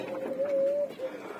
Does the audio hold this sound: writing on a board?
no